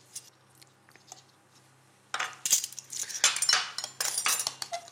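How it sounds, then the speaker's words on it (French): Crème fraîche, sugar and lemon juice whisked together in a bowl for a cheesecake topping: faint clinks at first, then a steady run of close metallic scraping and tapping of the utensil against the bowl. "Tout simplement, on mélange."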